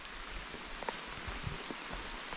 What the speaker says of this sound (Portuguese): E ali fora estou a ver muita chuva.